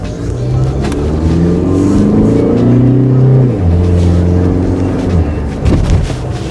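A diesel all-wheel-drive 2014 Audi Q3 engine revs and pulls steadily, pitch climbing through gears with a brief drop, loud and close throughout.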